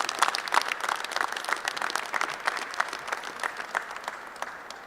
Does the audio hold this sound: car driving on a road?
no